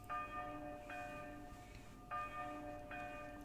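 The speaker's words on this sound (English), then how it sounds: "His words ended with the toll of the church bell, signalling the coming of evening in Bologna." A church bell tolls for evening in Bologna within the Piofiore: Fated Memories visual novel, ringing four resonant strikes in a slow, even rhythm with each tone sustaining until the next.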